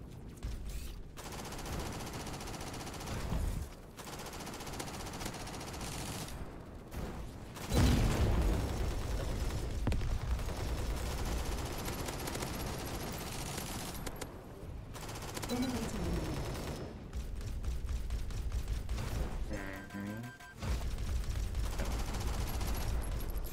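Gunfire in the video game Assault Bots: repeated bursts of rapid automatic fire and single shots, broken by a few short pauses and mixed with voice.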